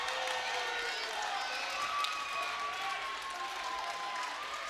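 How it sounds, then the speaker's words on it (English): A crowd at a girls' high school state tournament basketball game cheers and claps in a steady, sustained roar, with whistling tones and a faint announcer voice underneath. "we hear them now cheering for the officials"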